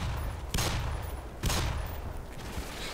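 Gunfire in the video game Black Mesa: two heavy shots about a second apart crack out over a low rumbling background, each fading quickly.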